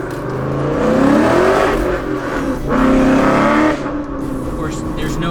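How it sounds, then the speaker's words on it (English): A 2014 Ford Mustang GT Track Pack engine with a tune, on a dyno, revs hard and climbs, surging loudly twice with a harmonic whine, alongside speech. "when you snap the throttle open, you can hear just a brief second it sucks in air"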